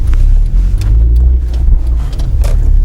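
A manual car engine restarting after a stall and pulling away in first gear, a loud low rumble close by that holds steady with slight fluctuations.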